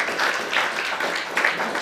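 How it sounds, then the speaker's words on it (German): Brief, moderately loud applause from an audience at a literary reading event, a steady patter of clapping with slight swells and no talk over it. "ich würde jetzt um einen Applaus bitten"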